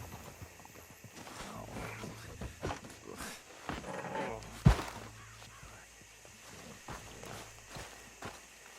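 A horse-drawn wagon passes in Red Dead Redemption 2, with steady clip-clopping hooves and rolling movement close by, mixed with game ambience and a sharp knock midway.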